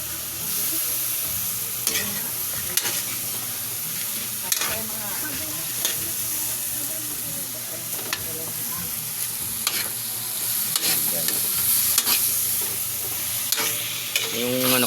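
Fried chicken with pepper being stirred in a hot pan, steady loud sizzling with scraping spoon strokes and clinks at irregular intervals, close and continuous without talk.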